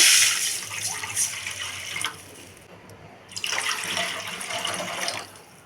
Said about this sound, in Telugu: ఇప్పుడు అదే కడాయిలో ఒక కప్పు సేమ్యాకి టూ కప్స్ వాటర్ పోసుకోవాలి